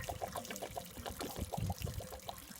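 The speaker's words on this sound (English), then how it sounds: "I'm just going to let that drain out." Water drains out of a Suburban hot water heater tank on an RV travel trailer in a steady splashing pour, close and fairly loud, with no talking.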